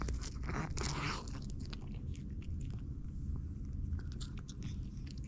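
A cat crunches dry food pulled from a puzzle toy, with close, irregular bites and chewing crunches, plus some scraping and rustling of the toy in between.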